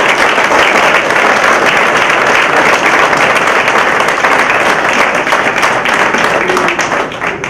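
An audience of a district attorney forum held at a house of correction breaks into sustained, loud applause that holds steady for several seconds before tapering slightly.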